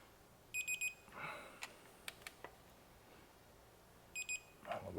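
Two short bursts of rapid high electronic beeps from a torque wrench reaching 50 set torque on BMW M6 S85 V10 rod bearing bolts, separated by a few seconds, with faint clicks and rustling in between.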